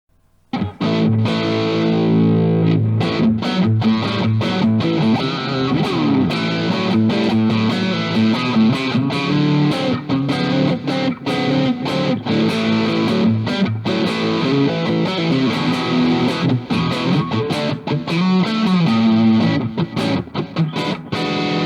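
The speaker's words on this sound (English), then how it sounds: "Okay, so that was the Spark." An electric guitar plays through a Positive Grid Spark practice amp with a distorted tone and deep reverb, strummed chords and riffs running loud and continuous for about twenty seconds.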